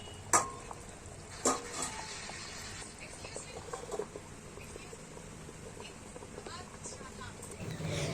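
Fried pabda fish are stirred into a bubbling curry with potatoes, giving soft sizzling and bubbling with a few sharp knocks of the spoon. Someone speaks quietly over the sound.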